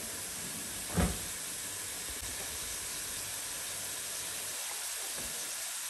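Minced meat stuffing browns in a pan, giving a steady, soft sizzling hiss that runs throughout, with a brief clunk early on.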